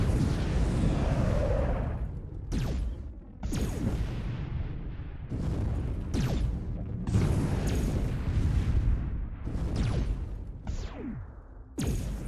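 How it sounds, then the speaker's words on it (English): A warship in the Sword of the Stars II video game fires all its weapons at a test target, a rapid barrage of overlapping booms and whooshing blasts rolling on loudly and continuously. "we can click on this front target and it'll fire everything it's got. Fire, fire."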